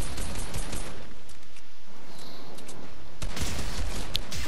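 Gunfire aimed at a platform in Fortnite: loud, close bursts of rapid shots crackling in clusters, with a short lull before a fresh volley near the end, no voices.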